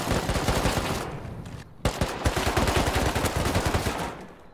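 Rapid bursts of automatic gunfire in the video game Rust crack in quick succession, loud and close, with a brief pause before another long burst resumes.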